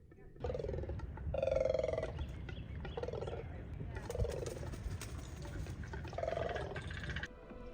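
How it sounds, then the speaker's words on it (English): Several loud, croaking bird calls from Bird Island on the Silver Springs River, Florida, ring out in repeated bursts over a low rumbling background, harsh and almost reptilian in tone. "This is Bird Island. Yeah, they sound like dinosaurs."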